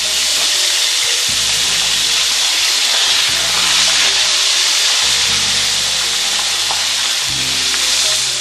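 Soft shell crab frying in hot grease, a loud, dense, continuous crackling sizzle held close up and steady throughout, with faint low bumps beneath and no voices.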